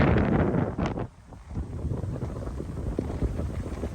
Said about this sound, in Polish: a tutaj przyszła wichura straszliwa.